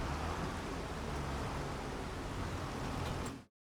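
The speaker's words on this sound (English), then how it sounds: "It's actually raining right now" Steady rain falls in Farming Simulator 25 on the Riverbend Springs map, a continuous dense hiss of noise at even loudness throughout, with no voices, cutting off abruptly near the end.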